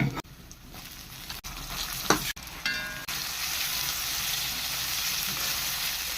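Onions and crushed chili fry in a pan for a prawn and koorka stir-fry, a steady loud sizzle with a few scraping stirs early on, then a continuous close hiss with no talk.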